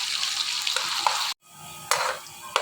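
Finely chopped onion fries in hot ghee with a loud, dense sizzle and stirring scrapes, broken by a brief moment of silence before the sizzling resumes with sharp bursts as the spoon moves.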